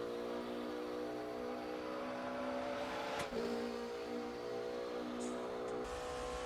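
A race car engine in the RaceRoom racing game drones in a steady, even tone throughout, held at a constant pitch with a brief shift partway through, heard alone.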